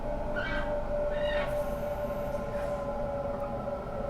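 A Sydney Trains T1 A-Train runs between Richmond and Schofields. It gives a steady, loud interior rumble with a sustained tonal whine and brief higher squeals, and no one speaks.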